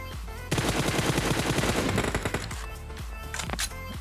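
PUBG Mobile gunfire from a rush in a match: sustained rapid automatic bursts for about two seconds, loud and close, then a few scattered shots and a final burst.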